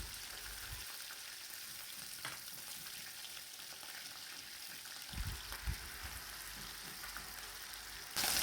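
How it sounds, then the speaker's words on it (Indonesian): Salted fish frying in hot oil gives a steady, soft sizzle and crackle throughout, with a few louder spits and pops near the end. "ikan asin yang digoreng"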